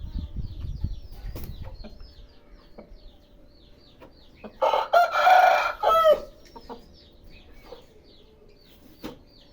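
A fighting rooster being handled gives a short, loud burst of crowing and clucking partway through, with soft rustling and faint clucks before and after.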